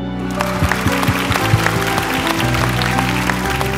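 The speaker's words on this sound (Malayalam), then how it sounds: "നമ്മളെല്ലാവരും എണീറ്റ് നിന്ന് കൈയടിച്ചു" An audience at a singing reality show stage stands and claps in ovation, a steady wash of many hands applauding close and loud over a faint musical hum, without speech.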